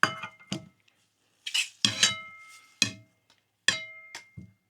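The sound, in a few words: steak placed onto titanium plate, cookware clinking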